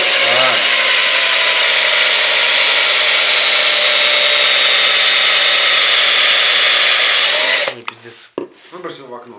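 A power drill whines steadily at high pitch while boring a hole through a ceramic mug, loud and continuous, then cuts out near the end, leaving brief knocks and handling noise.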